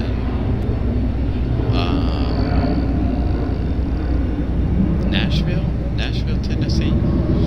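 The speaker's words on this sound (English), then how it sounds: "good sounding departure" Airplane departing Raleigh-Durham International Airport, a loud steady jet roar held throughout while someone talks over it.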